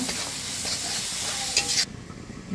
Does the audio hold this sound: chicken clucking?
no